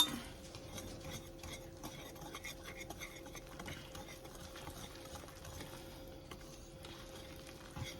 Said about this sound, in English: And now we're going to get this all whisked up.